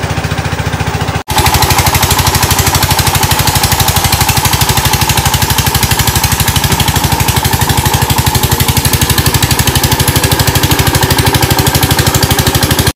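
A tractor engine running close by at a field during rice planting, a loud, steady, rapid mechanical chugging that starts abruptly and carries on unbroken for over ten seconds.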